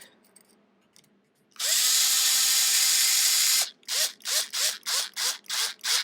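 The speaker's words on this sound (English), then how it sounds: "Don't you let the drill force everything." A power drill whirs loudly in one continuous two-second run, then fires a rapid series of short bursts as it tightens a fitting on a Traxxas Nitro Rustler model car's engine mount.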